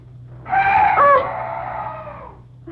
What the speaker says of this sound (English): Oh, some night birds.